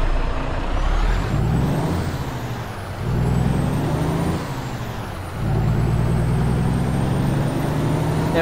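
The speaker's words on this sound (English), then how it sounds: "for this size engine, it doesn't sound too bad, to be honest with you" A heavy truck in American Truck Simulator rumbles loudly and steadily, its engine note rising and falling through gear changes with a short hiss of air, heard alone without talk.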